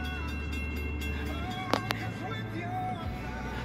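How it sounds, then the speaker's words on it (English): A CSX mixed freight train with a special engine leading rolls past a road crossing with the gates down, a steady low rumble of cars underneath, a couple of sharp clanks partway through, and voices nearby. "Wow, finally, we get caught in a train."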